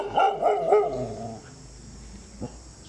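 A dog at a temple grounds in Siem Reap gives three quick, loud barks close by, then falls quiet, with one faint short yelp after a pause.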